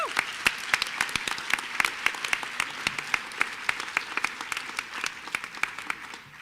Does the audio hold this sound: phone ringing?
no